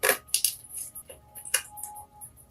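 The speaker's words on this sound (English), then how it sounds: "So I'm going to put these cards back in." Tarot cards are slid back into the deck with light, crisp clicks and soft papery flicks, several short taps spread irregularly and heard close up and quiet.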